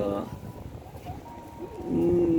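Pigeons coo softly inside a pigeon house where chicks are being raised, with low throaty calls rising near the end while a person talks nearby.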